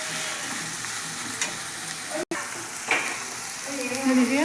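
Chicken biryani ingredients fry in a pot with a continuous close sizzle, while occasional stirring scrapes and clinks of the spoon cut through the hiss.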